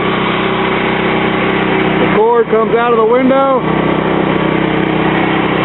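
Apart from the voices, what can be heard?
emergency generator engine running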